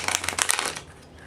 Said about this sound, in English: One more shuffle since that last one wasn't so great.